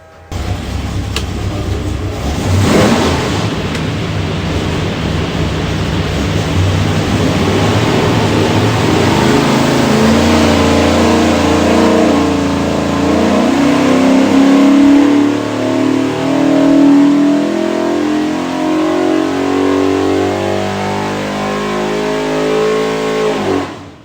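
A 427ci small-block Ford V8 with Edelbrock Pro Flo EFI and rear sump oil pan roars on a dyno, loud and continuous, climbing steadily in pitch through a long full-throttle pull with no talk.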